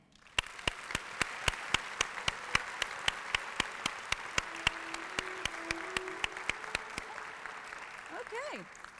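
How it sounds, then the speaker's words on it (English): Applause at the 2022 Virginia Beach Tourism Awards Luncheon, faint and quite sparse, with a steady rhythm of distinct claps over a soft crowd murmur and a brief whistle-like sound near the end. "Please give a big round of applause"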